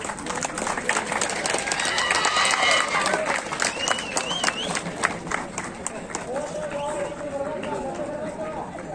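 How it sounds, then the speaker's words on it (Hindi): Audience applause fills the hall at the closing ceremony of the National Youth Fest 2023 at Karnatak University, a dense, steady clapping that runs throughout with crowd voices mixed in. "थोड़ा सा तालियां कंजूसी ना करें।"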